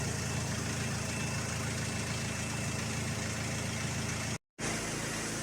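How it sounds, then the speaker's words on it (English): A Mercedes-Benz engine idles steadily with a low, even rumble, unbroken except for a brief dropout near the end. "I've been waiting for about 10 minutes with the engine turned on at idle"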